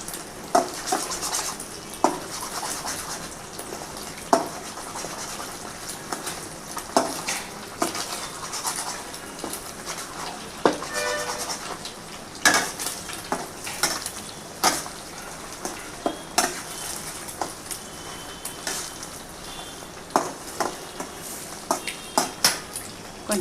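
Chicken pieces fry in a pan with a soft, steady sizzle, broken by frequent sharp scrapes and clicks as they are stirred and turned, close and fairly quiet.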